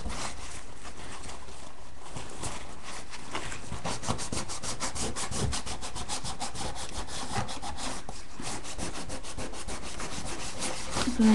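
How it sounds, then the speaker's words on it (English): Damp wood stain being rubbed firmly into bare wood grain with a cloth, a steady, close scrubbing and rasping friction that continues without pause, in quick back-and-forth strokes. "I'm going to rub it in and get it all into the grain."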